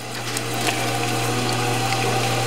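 A potter's wheel spins while clay is thrown with water, giving a steady mechanical hum with a low drone, faint wet rubbing and small ticks over it, close up and without talk.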